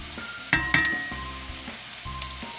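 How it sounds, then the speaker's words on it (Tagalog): White onion and toasted garlic sautéing in a pan, a steady close sizzle broken by a few sharp spits and crackles near the start, then settling into softer frying. "Igisahan ko rin ito ng toasted garlic and onion para mas lalong sumarap ang kanyang"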